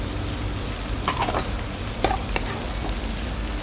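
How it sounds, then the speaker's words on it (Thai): Minced pork is stir-fried in a pan for a rice noodle roll filling, giving a steady sizzle. A few sharp scrapes and clinks of a spatula cut in near the middle, with no talking. "ต่อไปใช้โป๊สับใส่ลงไปค่ะ ผัดต่อไปให้หอมค่ะ"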